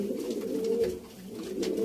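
Sialkoti pigeons coo in low, throaty, rolling tones, steady and close, over a faint background hiss.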